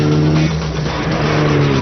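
A Mitsubishi Lancer Evolution with an SST transmission runs fast on a race track, its engine droning loud and steady at high revs from inside the car, a sustained tonal roar with a brief shift in pitch.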